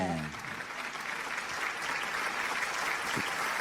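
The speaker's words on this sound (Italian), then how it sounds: "accogliamolo con un forte applauso." An audience applauds to welcome a guest on an Italian comedy broadcast, steady dense clapping throughout, fairly loud and sustained, beginning just as a voice finishes speaking.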